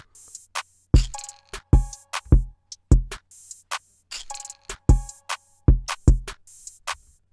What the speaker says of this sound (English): drums and percussion sound like this after leveling.